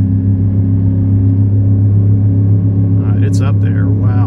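A steady low engine drone holds throughout from a gas GMC Sierra 2500 HD pickup towing a travel trailer down a steep grade at 4,000 RPM, deep and constant, with a voice briefly speaking near the end.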